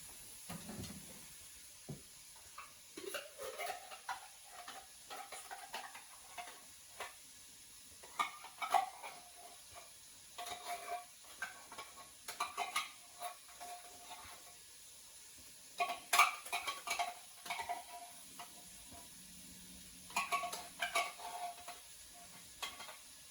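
Chili in a pot with tomato soup added, stirred by hand: a soft, intermittent scraping and clinking of the spoon against the pot over a faint, steady simmering hiss.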